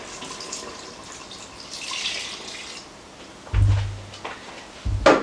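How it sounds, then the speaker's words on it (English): Liquids being poured into an Instant Pot for beef tips after browning the meat, giving a soft watery splash and trickle that grows, with louder sloshing bursts toward the end. "you're going to switch off your Instapot, and you're going to add all your liquids"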